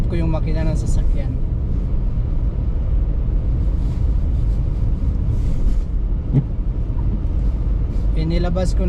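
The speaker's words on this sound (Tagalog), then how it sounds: "ma-warm up ko yung makina ng sasakyan." A car engine warms up while idling, a steady low rumble running throughout at close range, with brief voices at the start and end.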